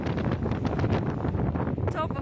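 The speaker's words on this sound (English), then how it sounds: "Windy here." Strong wind buffets the microphone in gusty, continuous rushes on Tasmania's West Coast, loud and close throughout, with a brief voice near the end.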